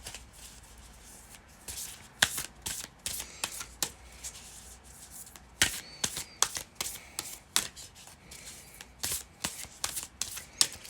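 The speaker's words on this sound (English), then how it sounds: "So I'm doing a little shuffle here." Tarot cards are shuffled in a series of quick, crisp riffling bursts, close and fairly quiet, with brief pauses between them.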